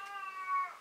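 A female cat in heat lets out a single drawn-out meow, close and clear, rising slightly toward the end in an otherwise quiet room.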